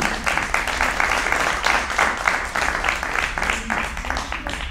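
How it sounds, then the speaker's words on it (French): A room full of people at a town council meeting claps together in a sustained burst of applause, dense and fairly close, with a few voices murmuring underneath. "Donc, bravo, et on peut applaudir,"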